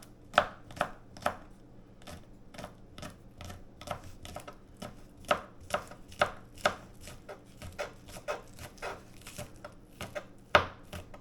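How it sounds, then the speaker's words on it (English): A knife chops onions on a cutting board in a steady rhythm of sharp, close thuds, roughly two to three per second, with brief pauses between runs. "I'm going to go ahead and cut me up some of these"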